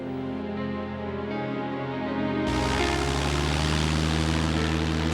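Propeller aircraft engine drone, a steady harmonic hum that grows louder and fuller halfway through as the plane passes close, with no voices.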